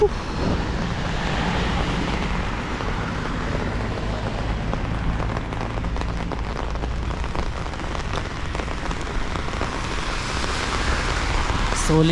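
Steady rain in New Zealand pattering on a surface, a continuous dense hiss with no pauses throughout.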